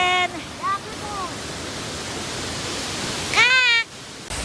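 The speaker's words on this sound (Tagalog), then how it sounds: "Ayan si Mad Falls! Finally natingnan natin. Mad Falls! Mother Falls!" Mad Falls, a waterfall near Baler, roars as a steady broadband rush of falling water throughout, with excited voices calling out over it at the start and near the end.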